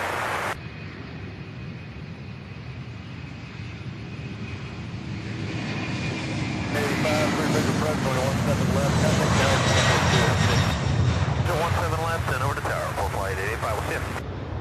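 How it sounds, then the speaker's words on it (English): Jet airliners such as an Airbus A300 and an MD-11 taxiing at Louisville SDF airport, a steady engine roar that swells louder midway, with a voice talking over it and bursts of radio chatter. "we have another Airbus A300, and then it looks like an MD-11 is getting ready to taxi"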